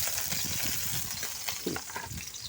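Chili peppers tossed into a hot frying pan in a home kitchen in Makato, Aklan, giving a steady, close sizzle and crackle with faint stirring scrapes throughout.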